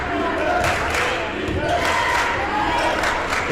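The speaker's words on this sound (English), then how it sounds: "The crowd takes up a chant of defense" A basketball crowd fills a gym with loud, continuous noise, voices rising together in a rhythmic defense chant during a game between USN and JP2, with sneaker and ball sounds buried underneath.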